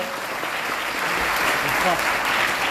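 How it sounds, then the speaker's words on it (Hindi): Steady applause from a crowd, dense and continuous, with faint voices mixed in beneath the clapping. "तो तालियां बजाइए"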